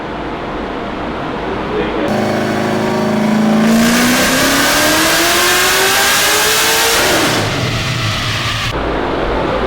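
A Nissan S14 engine on a dyno, tuned to around 650 wheel horsepower, revs hard toward 7,000 rpm, its pitch climbing steadily over several seconds before the throttle drops off to a loud idle-like drone.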